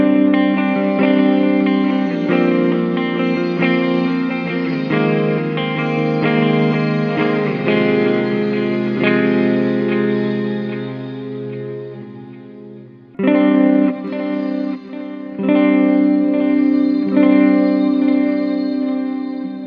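Electric guitar played through a shimmer reverb on a Mooer GE-300 multi-effects unit, sustained chords ringing in a lush, washy haze with a brief drop near the end before strumming resumes, loud and alone.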